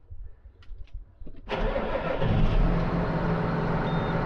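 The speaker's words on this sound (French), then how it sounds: "On va aller démarrer le tracteur, le faire tourner pendant 3-4 minutes" A tractor engine is started and left running for a few minutes. After some quiet low knocks and clicks, it fires abruptly and loudly about a third of the way in, then settles into a steady, close idle rumble.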